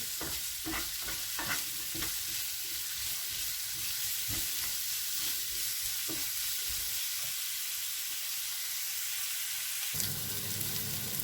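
Salted onions sauté in a pan with a continuous hiss and repeated rhythmic spatula strokes early on, the stirring easing into a steadier sizzle toward the end.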